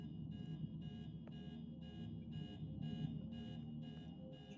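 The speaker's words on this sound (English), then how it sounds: "The monster can hear this car alarm, too, and it'll go after it." A car alarm going off in a video game, a steady, evenly pulsed beeping that repeats without pause, fairly faint and heard alone.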